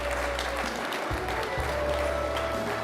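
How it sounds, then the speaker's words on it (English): Crowd applause at the closing ceremony of the World Geothermal Congress, a continuous wash of clapping from a large audience over a steady low hum, heard at moderate distance. "a round of applause."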